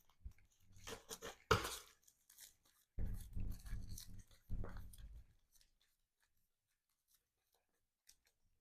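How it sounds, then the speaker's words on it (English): Close, crisp riffling and snapping of playing cards in a few bursts, followed by quiet with only a couple of faint taps. "Let's shuffle up the encounter deck."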